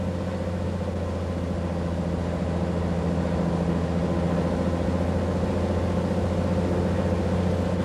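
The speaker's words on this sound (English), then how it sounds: "we can now advance the throttle to 1700 RPM" A Cessna 185 aircraft engine runs steadily at around 1700 RPM during a ground run-up, a constant loud droning hum with strong low harmonics and no talk.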